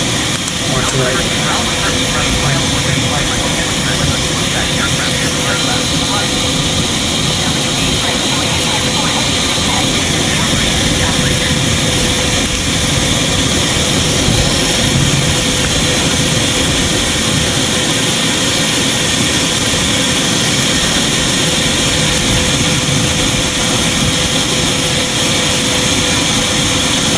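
Airplane engine in Microsoft Flight Simulator 2020, a damaged engine on a plane turning around: a loud, constant droning roar with a steady hum, unbroken for the whole stretch.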